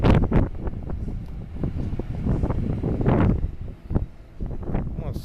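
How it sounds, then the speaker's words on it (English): Wind buffets the microphone in rough, uneven gusts on the Atlantic City boardwalk on a cloudy day, a loud low rumble throughout with a few brief bursts of noise. "we got wind gusts, you all, so the audio might be affected"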